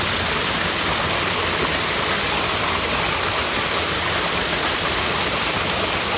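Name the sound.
Seven Sisters Waterfall, Palm Springs area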